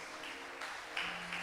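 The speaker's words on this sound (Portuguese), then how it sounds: "Quem pode aplaudir ao Senhor por isso?" A church congregation applauds the Lord during a sermon: a faint, distant, steady patter of many hands clapping together, with no voices over it.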